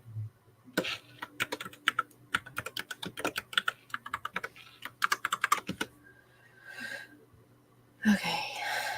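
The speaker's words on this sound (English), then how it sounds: "And yes, my keyboard is loud." Loud computer keyboard typed on in quick irregular bursts of sharp clacks, close and clear, with a short pause and a breathy sound near the end.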